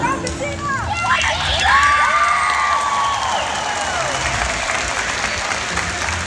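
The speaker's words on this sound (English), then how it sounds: "I want you to give her a round of applause" Audience at a SeaWorld show applauds and cheers, with children shouting, whistles and squealing tones rising over the crowd for several seconds after a big jump.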